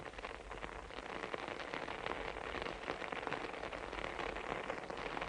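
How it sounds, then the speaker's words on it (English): Steady, dense patter of light drizzle drumming on a poncho, continuous and even throughout with no voices. "Or the night-long drizzle drumming on your poncho."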